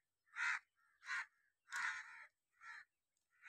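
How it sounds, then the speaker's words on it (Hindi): Crows caw along a silent, deserted rural path beside farm fields near a village, with about five loud, harsh calls spaced evenly apart against near-total quiet. "बिल्कुल खामोशी, सिर्फ कौए ट्रैं ट्रैं कर रहे।"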